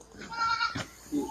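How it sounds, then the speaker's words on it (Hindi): A heavy, top-quality Moni goat gives a short bleat close by, with a second brief bleat near the end, amid farm background noise and faint voices. "बहुत ही हैवी और टॉप क्वालिटी की बकरी है"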